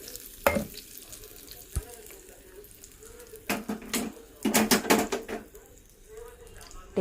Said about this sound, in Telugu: ఇప్పుడు మనం పోపు అయితే వేసేసుకుందాం.